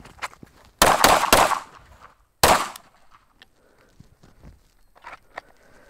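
Several pistol shots from a SIG P365XL fitted with a Streamlight TLR-7sub light, fired on a range: a tight burst of three loud, sharp reports, a single shot after a pause, then quiet with faint movement noise.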